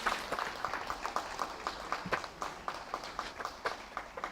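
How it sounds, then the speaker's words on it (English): Scattered applause for graduating students at a school ceremony, a modest crowd clapping unevenly with distinct individual claps standing out, moderately distant in a large room. "can we please have a huge round of applause for all of them?"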